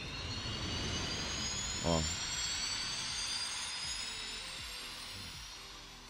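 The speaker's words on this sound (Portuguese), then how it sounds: "Por esse barulho aí, dá pra você ter uma noção que ele vira uma turbina de avião." Sonic flying like a jet turbine in a Roblox game: a steady, loud, whooshing engine roar with rising whine holds throughout, with a brief voice heard once over it.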